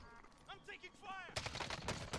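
Gunfire in the video game Warzone, where a flurry of sharp shots rings out in the second half, loud and dense, following a stretch of game sounds and voice-like tones.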